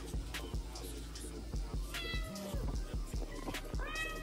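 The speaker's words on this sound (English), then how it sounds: "And yes, I do have multiple cats." Several house cats meow repeatedly in a home kitchen where an omelet is being made, with drawn-out, rising and falling cries that overlap at close range throughout, over low background noise.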